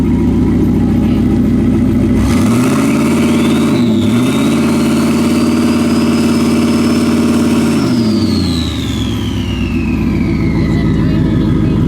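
A turbocharged Ford Crown Victoria V8 is held on the brake and revved for a brake-boost, its nearby idle climbing into a strained rising roar, dipping briefly, holding steady, then falling back to idle.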